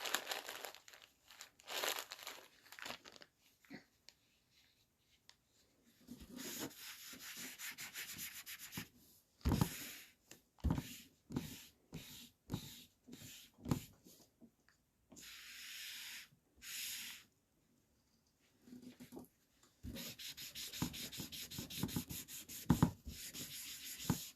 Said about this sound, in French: je vais gommer là où il faut